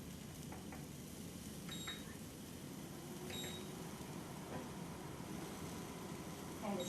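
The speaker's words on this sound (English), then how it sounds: "It doesn't like it when I take the pan off. It gets mad and beeps at me." An infrared skillet gives a few short, faint electronic beeps after the pan is lifted off while scrambled eggs cook, small high tones over a low hum and quiet kitchen noise.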